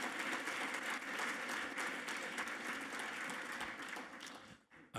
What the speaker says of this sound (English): Would you please give them all a massive round of applause?